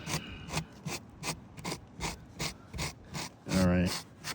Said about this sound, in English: I'm just going to use a sanding block